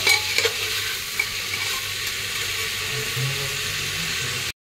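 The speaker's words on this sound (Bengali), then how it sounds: "একটু নাড়ানাড়ি করে হালকা ভাজা ভাজা করে হলুদ টলুদ সব দিয়ে দিচ্ছে।" Vegetables with turmeric and beetroot stir-fried for pav bhaji, a steady close sizzle with spoon scraping and stirring throughout, loud and continuous until an abrupt stop.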